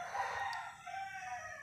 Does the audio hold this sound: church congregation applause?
no